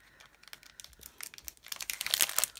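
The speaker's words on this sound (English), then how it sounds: "I thought I might just pop a compass sticker out of the sticker pack" Crinkly plastic and paper crackles as an enamel compass sticker is popped out of a sticker pack, a run of small close crisp clicks and rustles that grows busier and louder toward the end, with no talk.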